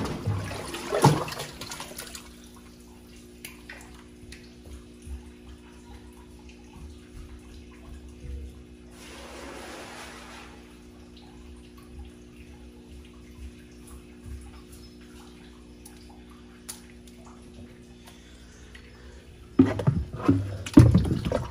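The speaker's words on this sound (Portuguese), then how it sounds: "O que eu vou fazer agora aqui vai ser só tirar essa água e jogar fora." Dirty water is poured out of a ceramic filter from a koi pond, with splashing and gushing at the start, a louder rush midway and a burst of handling sounds at the end, then quiet.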